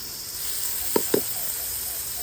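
Chopped tomatoes dropped into a pan of onions frying until brown for pudina chicken pulao, giving two quick splashes of sizzle over a steady, moderate frying hiss.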